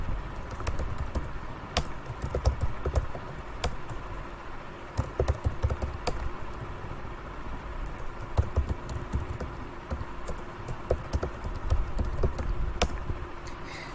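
Steady clicking of computer keyboard keys in a continuous, uneven rhythm for the whole stretch, close and moderately loud over a faint room hum, with no talk.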